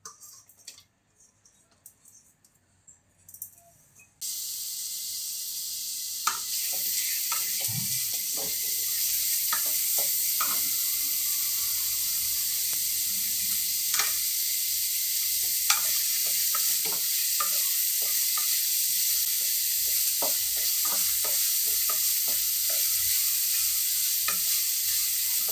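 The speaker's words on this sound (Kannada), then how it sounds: "ಸ್ವಲ್ಪ ಆಯಿಲ್ ಹಾಕಿ ಸಣ್ಣದಾಗಿ ಹೆಚ್ಚಿರುವಂಥ ಈರುಳ್ಳಿನ ಮತ್ತು ಮೆಣಸಿನ್ಕಾಯಿನ ಫ್ರೈ ಮಾಡ್ಕೊಳ್ಳೋಣ." Finely chopped onion and green chilli fry in oil over a low flame. A quiet start with a few clinks gives way to a loud, continuous sizzle with scattered pops and spatula scrapes, and no talking.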